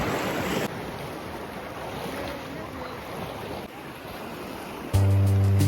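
Water washing against a rocky shore at Sanzhiika under gusty wind rumble, a continuous churning hiss that ends in an abrupt, loud electronic buzz.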